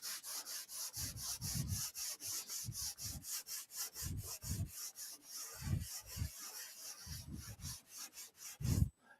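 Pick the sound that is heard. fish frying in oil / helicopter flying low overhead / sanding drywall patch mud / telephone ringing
sanding drywall patch mud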